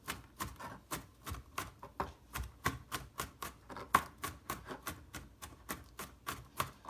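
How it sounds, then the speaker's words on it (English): Garlic being minced with a knife on a cutting board, a fast steady run of crisp close chops repeating about three to four times a second. "For mincing, you want to really make it into really tiny pieces"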